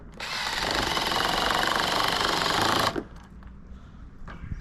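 Power drill driving screws into the hinge post of a vinyl fence gate, one loud continuous close whine for about three seconds that stops abruptly, followed by faint handling noises.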